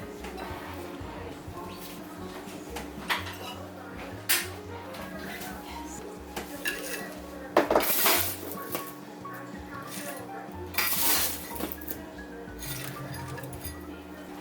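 Utensils clink and scrape against plates while a home-cooked meal with sweet potatoes and vegetables is served, several sharp clinks scattered over a steady background with faint murmuring voices.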